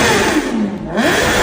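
BMW S1000RR superbike exhaust rises in a loud, close rev, dips briefly and swells again in a sweeping whine, with no voices.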